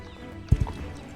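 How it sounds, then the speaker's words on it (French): Horse hooves in the Star Stable video game, two quick soft clip-clop thuds close together, faint against a quiet background. "on va acheter un petit cheval"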